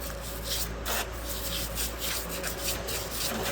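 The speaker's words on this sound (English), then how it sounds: "You pretty much just get a cheap old brush. And you can just kind of scrub." A cheap brush scrubs a rusty truck suspension part coated in wax and grease remover, giving a close, steady back-and-forth rubbing with short rhythmic strokes and no talk.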